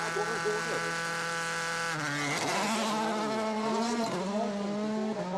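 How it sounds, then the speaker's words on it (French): A WRC rally car on a Swedish rally stage, with its engine mapping switched to full power, gives a close, whining in-car engine note. The pitch holds, then dips and climbs repeatedly as the revs rise and fall. "On entend le bruit de la voiture qui est différent, parce qu'en fait il change la cartographie pour avoir toute la puissance."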